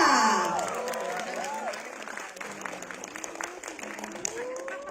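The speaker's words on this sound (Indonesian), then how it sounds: "boleh tepuk tangan yang meriah untuk Selin Evangelista." Audience applause for actress Celine Evangelista at a horror film press event, a steady spread of clapping from a crowd, moderately loud, with a voice speaking over the start.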